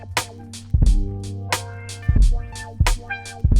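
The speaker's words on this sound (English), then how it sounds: "you could use some type of wobble effect" A looped musical sample runs through a rhythmic wobble auto-filter effect, with punchy low hits and bright sweeping bursts pulsing in a choppy beat-making pattern, no talking.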